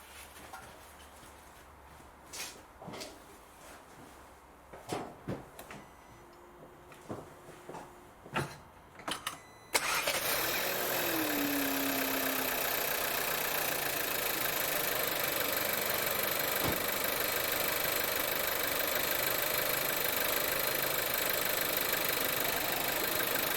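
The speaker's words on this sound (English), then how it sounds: "So now I'm gonna start the car." Quiet shuffling and a few clicks, then a 2014 VW Golf SV 1.4 TSI engine cranks and catches abruptly, settling into a loud, steady idle that runs without a break.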